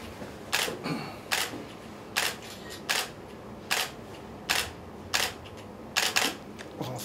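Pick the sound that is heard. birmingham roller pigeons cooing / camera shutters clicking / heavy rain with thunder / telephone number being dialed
camera shutters clicking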